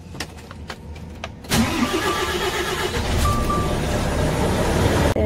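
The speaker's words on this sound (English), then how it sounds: "So I can start the engine." A truck engine cranks and catches after a few clicks and knocks, then settles into a loud, steady diesel idle close by.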